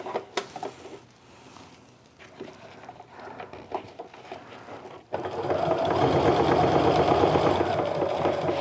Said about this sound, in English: Go ahead and stitch to my corner, stop about a 1/4 inch away, turn the work.